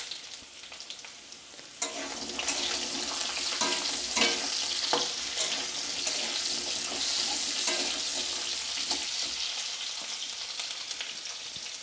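Chopped carrots dropped into a hot pan of mixed vegetables with potatoes, producing a sudden loud sizzle that settles into steady frying crackle with occasional stirring scrapes.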